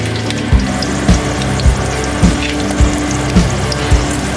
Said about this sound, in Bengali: এবার চাটনির জন্য একটু রসুন ভেজে নিচ্ছি।